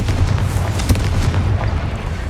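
Confringo blasting spell in Hogwarts Legacy, a loud sustained booming explosion with deep rumbling body and crackling bursts throughout, no voices.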